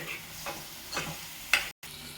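Masala frying for a prawn curry, a soft sizzle with a few short stirring scrapes close by and one sharper scrape before a brief cut.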